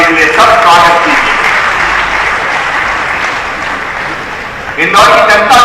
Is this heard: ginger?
no